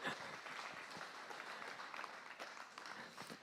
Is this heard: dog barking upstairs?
no